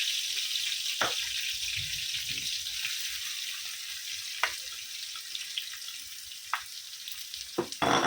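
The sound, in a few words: onions frying in a pan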